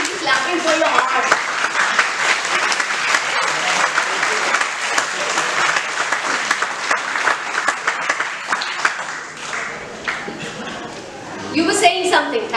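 Audience at a communication skills workshop claps steadily for a participant, a long dense round of applause that thins out toward the end, with scattered voices, including a child's, heard beneath and after it.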